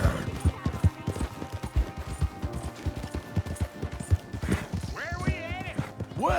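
In Red Dead Redemption 2, steady clip-clop of horse hooves trotting close by, with a horse whinnying near the end and faint voices in the background.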